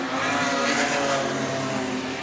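Super stock race cars, including a supercharged Falcon, roar past the grandstand at Rockhampton Speedway in a dense, loud, continuous engine rumble that holds steady throughout.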